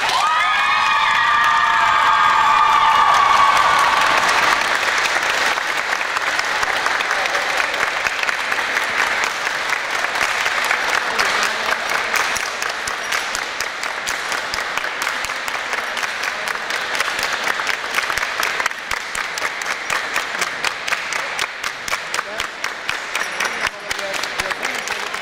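Sustained applause and cheering fill a sports hall at a volleyball tournament, with loud crowd voices and shouts at the start giving way to long, steady, rapid clapping from many hands.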